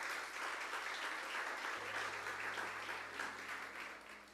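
Congregation in a church service applauding loudly and steadily, a dense wash of many hands clapping that holds for several seconds without pause.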